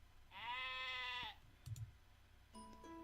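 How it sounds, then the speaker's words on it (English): A sheep bleats once, a long wavering call close by in a quiet field, followed by a short thump and then a second, softer animal call near the end. "One of his sheep stood in front of me and bawed again."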